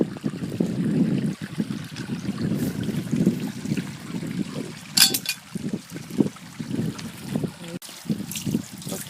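River water pours through a small dam and filter, a continuous low churning gurgle with uneven surges and splashes, fairly close, and a few brief metallic knocks.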